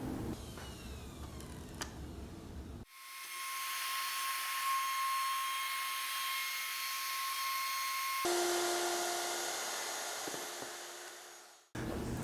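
A handheld router cuts a recess for a router table insert plate, its loud, steady high whine running for about nine seconds before the motor spins down, with quieter workshop noise on either side.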